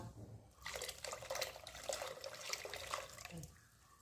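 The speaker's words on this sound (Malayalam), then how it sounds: "ശർക്കര ഒഴിച്ച് കൊടുക്കുക." Liquid jaggery pours into a pan in a short, soft, continuous trickling stream that lasts a few seconds, then tapers off, with no voices.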